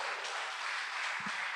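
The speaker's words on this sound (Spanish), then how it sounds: "Démosle un fuerte aplauso a Dios" A church congregation applauds during a Spanish-language worship service, a steady wash of many hands clapping that carries through the whole short stretch at a moderate, somewhat distant level.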